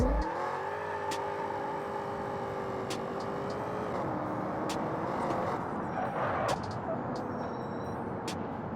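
A rebuilt 1100-horsepower Cummins diesel engine running about 18 pounds of boost accelerates hard in a car on a test hit, a loud, steady, close roar with rising harmonics and a brief surge near the end.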